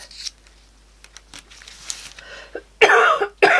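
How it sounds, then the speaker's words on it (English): Quiet clicks and rustles, then two loud, harsh coughs close by, the first longer, the second short and abrupt. "That's my normal cough, by the way."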